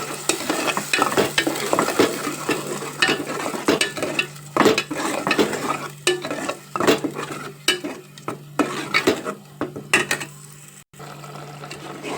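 Spices hitting hot oil in a pan for an okra and fish curry give a steady sizzle, broken by repeated scrapes and clinks of a spoon stirring against the metal pan, close and fairly loud.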